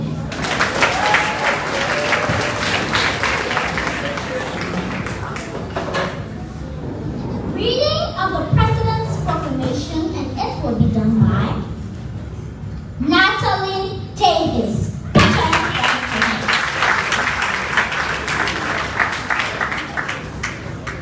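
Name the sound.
audience applause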